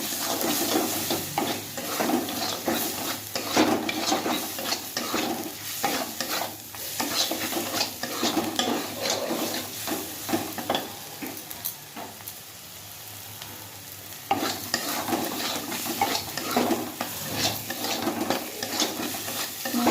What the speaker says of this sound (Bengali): মশলা কষতে কষতে দেখি তেল ছেড়ে দিয়েছি মশলা থেকে